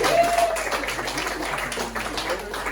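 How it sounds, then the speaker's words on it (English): Audience applause for a stand-up comedian at a comedy show at Center Stage in Ra'anana, steady clapping and cheering throughout, fairly loud and close, with voices mixed into the crowd noise. "Another round of applause for Sam Keisler"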